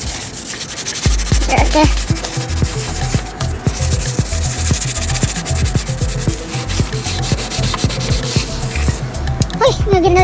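Sandpaper rubs back and forth over a foggy plastic headlight lens in fast, steady strokes, loud and close throughout, with a brief spoken remark near the start.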